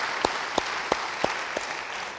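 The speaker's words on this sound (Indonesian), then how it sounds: "Beri tepuk tangan bagi dia." A church congregation applauding during a sermon, five distinct sharp clap bursts spaced evenly about a third of a second apart over a faint room hum, then fading out.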